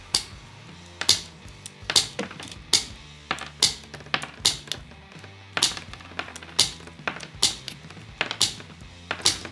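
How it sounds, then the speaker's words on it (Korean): Multipurpose electrician's scissors shaped like pruning shears cut solid copper wire in a rapid, close series of dull metal-on-metal snips and clacks with short gaps between the cuts. "이게 뭔가 금속과 금속이 부딪히는 그런 좀 둔탁한 소리가 나잖아요"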